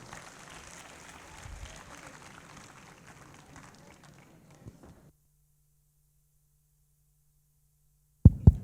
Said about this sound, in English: A big round of applause for Vishnu.